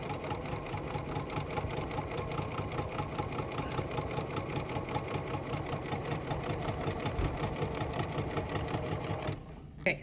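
A sewing machine runs steadily at slow speed, stitching a decorative stitch in pink thread, its rapid even needle rhythm close and continuous before stopping abruptly near the end.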